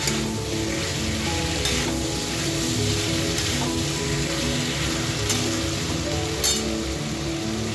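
Tomatoes and spices frying in a pan for a karela (bitter gourd) dish with lemon and ghee, giving a steady, loud sizzle with faint scraping of stirring throughout.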